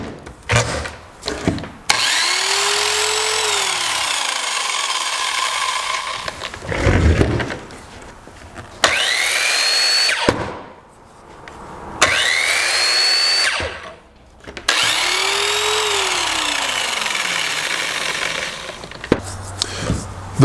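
A Makita brush sander spins up to a loud whining drone, then winds down and stops, repeating this several times in close succession. Each cutoff brings a falling pitch and brief near-silence before the motor starts again.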